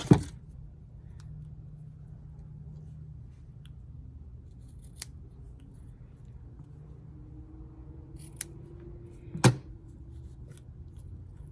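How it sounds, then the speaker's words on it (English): A few sharp scissor snips trim the ends of card stock on a handmade Christmas card, isolated crisp cuts spaced apart over a quiet room background. "And then I'm going to trim the ends."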